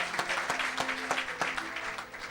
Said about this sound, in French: Nous acclamons pour le Seigneur.